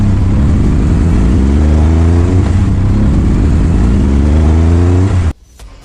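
A motorbike stuck in mud revs hard and continuously at close range, its engine note climbing and holding loud for several seconds before cutting off abruptly near the end.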